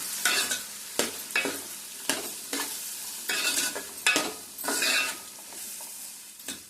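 Onions sizzling and frying in a pan for a fish fry, with repeated sharp scrapes of a spatula stirring through them at a steady rhythm, close and fairly loud.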